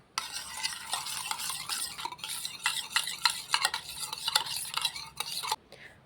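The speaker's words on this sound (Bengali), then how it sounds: "এবারে দইটাকে আমি ফেটিয়ে নেব একটু" Drained yogurt being whisked in a bowl for homemade mishti doi: close, rhythmic scraping and light clinking strokes that continue steadily without talk, then stop abruptly near the end.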